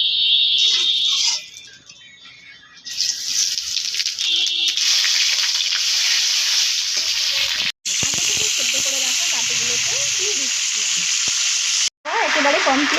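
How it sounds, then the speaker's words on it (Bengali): Bay leaf and cumin seeds crackle and sizzle loudly in hot mustard oil for a prawn curry, a steady bright hiss with two brief cutoffs and quieter stretches near the start. "এবার আমি তেজপাতা আর জিরে ফোড়ন দিয়ে দিচ্ছি।"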